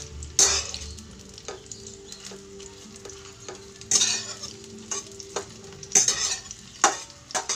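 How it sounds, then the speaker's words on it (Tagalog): Hotdog and scrambled eggs frying in a pan, with steady sizzling under repeated scraping and stirring strokes of a utensil against the pan, close and clear with no talk. "Umidikit siya kasi sa kawali pag bagong lagay. Kaya ginagalaw-galaw."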